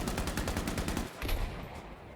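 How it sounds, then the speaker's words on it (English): Rapid bursts of automatic gunfire crackle in Battlefield V, a steady rattling stream of shots that pauses briefly midway before resuming, loud and close with no voices. "As Toto, he's going to be able to get some long-range shots off."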